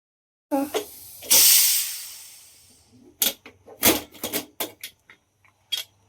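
A pressure cooker cooking rice for drumstick pulao lets out one loud burst of hissing steam that fades over about a second, followed by scattered sharp clattering clicks.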